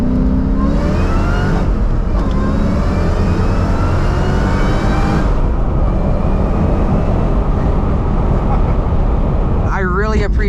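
A 500-horsepower Mustang Terminator roars under full throttle on a track, engine note climbing through the gears loud and close, with a voice speaking briefly near the end.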